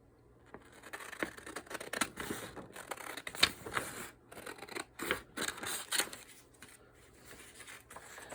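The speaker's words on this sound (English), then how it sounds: "before I glue it, I'm going to cut out the pieces for it." Scissors snipping out paper pieces for a journal page layout, a close run of quiet, crisp cutting strokes in irregular rhythm with short pauses between cuts.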